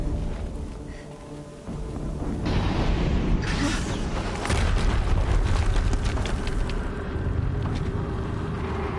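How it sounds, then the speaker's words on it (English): Deep booming blasts in the action game Horizon Zero Dawn, a low rumbling explosion swelling around two seconds in and rolling on with heavy crackling debris and a sustained thunderous roar. "Another explosion."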